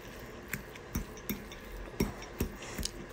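A spoon scrapes and clinks against a pan while garbanzo beans are stirred into a mushroom, onion and garlic mixture with jalapenos, giving about seven sharp, quiet taps at uneven intervals over faint background hiss.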